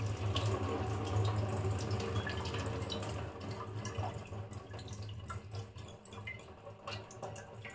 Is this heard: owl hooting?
no